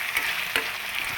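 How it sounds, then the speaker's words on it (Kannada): Tomatoes fry in a pan for poha, giving a soft, steady sizzle with a couple of brief stirring scrapes, moderately quiet and without talk. "ಸೊ ಈಗ ಫ್ರೈ ಮಾಡಿ."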